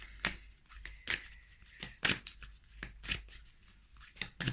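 Tarot and oracle cards being shuffled in quick, papery riffles and flicks, close and fairly quiet, repeating irregularly with no talking.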